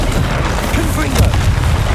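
Explosive fire spell blasting in a fantasy action video game, a dense, continuous rumbling boom over two seconds with crackling bursts layered in, loud and near.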